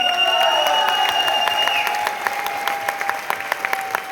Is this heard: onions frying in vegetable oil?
no